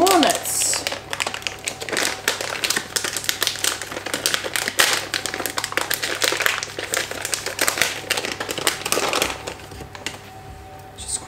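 Walnuts are crumbled by hand for a Dutch spiced breakfast cake, giving a steady run of dense crinkly cracking and crunching close up for about ten seconds, with a few brief spoken words at the start.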